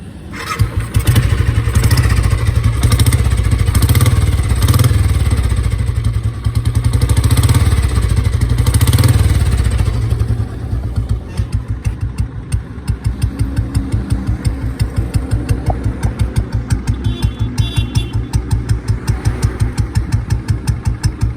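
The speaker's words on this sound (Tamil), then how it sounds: "எக்ஸாஸ்ட் நோட் கேட்டுடலாமா எப்படி இருக்குன்னு சொல்லிட்டு" A 2009 Royal Enfield Bullet Electra 5S motorcycle fires up and settles into its exhaust note, loud and close, first a dense roar and then a steady, rapid single-cylinder thump at idle, with no talk.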